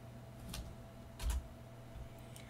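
Keys click faintly on a computer keyboard in a quiet room, a few short scattered taps with brief pauses between them and no voices.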